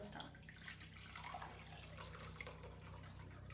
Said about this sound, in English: can you please measure 2 cups from the hot water that I heated again?